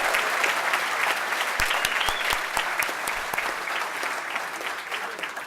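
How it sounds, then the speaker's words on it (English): A dense, sustained wash of audience clapping greets a student honoree at a Society of Ethiopians Established in the Diaspora event. A few sharper nearby claps stand out over the steady roar. "Let's give her a round of applause."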